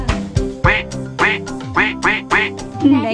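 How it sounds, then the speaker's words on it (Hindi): A duck quacks repeatedly in quick, nasal bursts, loud and close, with a steady rhythm of short calls. "ये बतख की आवाज है।"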